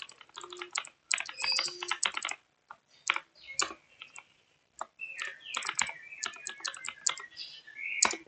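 An email address is typed on a computer keyboard during a Git configuration step. Quick bursts of close, crisp key clicks come in short runs separated by brief pauses, with no talking.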